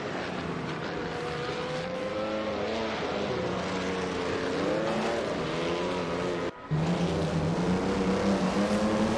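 1950s Formula 1 race cars from a video game at Bridgehampton roar continuously, engine pitch rising and falling through gear changes, with a brief dropout before a louder, higher-revving pass.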